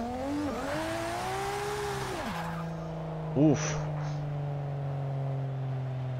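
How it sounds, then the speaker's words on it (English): A race car's engine in the Forza Motorsport 6 video game, played on a Logitech G920 wheel, revs with rising and falling pitch, drops sharply after a couple of seconds, then settles into a steady drone, with a brief spoken exclamation. "Car sounds so amazing."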